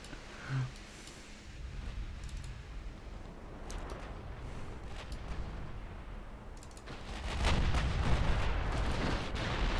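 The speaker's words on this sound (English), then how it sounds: "We will shoot up a destroyer." Naval guns in a Netherlands war strategy game fire on a destroyer, with muffled booming shots and rumbling blasts over a continuous battle din that grows heavier toward the end.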